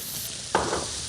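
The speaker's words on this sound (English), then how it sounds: "It's the sizzle." Food sizzling on a hot cooking surface in a busy restaurant kitchen, a steady hiss throughout with louder bursts midway and again near the end, no talking.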